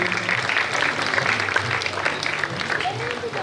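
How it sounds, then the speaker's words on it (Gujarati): An audience claps at a community award felicitation ceremony, a continuous roomful of applause with voices talking over it throughout. "મિત્રો જોરદાર તાળીઓથી એમનું સન્માન કરીએ"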